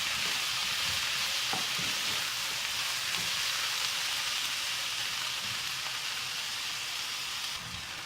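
Tomatoes fry in a fish curry base for Chettinad meen kuzhambu, a steady loud sizzle with faint stirring scrapes running throughout, close up and without talk.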